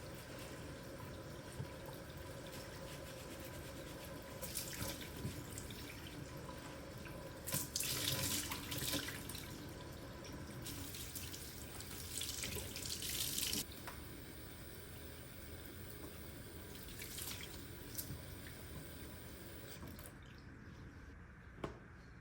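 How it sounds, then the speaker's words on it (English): Warm tap water running into a sink as wooden kitchen utensils are rinsed and wiped with a dishcloth, a quiet steady flow with brief louder splashing bursts and occasional drips, no voices. "I'm just going to run them under the tap and use some warm water and a dishcloth to get them nice and clean"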